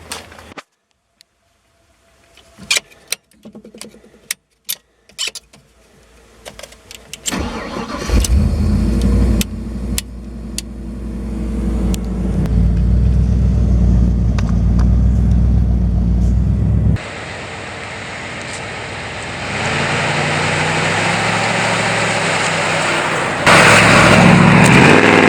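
An old truck has a cold start. Scattered clicks and clunks come first, then the engine cranks and catches into a loud, rough running rumble that rises as it revs and carries on steadily, with no talking.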